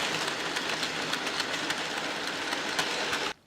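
A goods train rattles steadily along the track, with continuous rumbling and regular clickety-clack beats from the wagons, loud and close throughout until it cuts off abruptly at the end.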